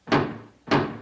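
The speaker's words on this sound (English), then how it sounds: "I can hear them pounding on the door." Two heavy thuds of pounding on a garage door, spaced about half a second apart, loud and close with no talking.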